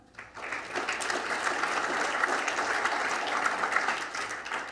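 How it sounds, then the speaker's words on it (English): An audience at an awards announcement breaks into steady applause, a dense wash of clapping that swells within the first half second and holds at an even level throughout. "you can applaud them"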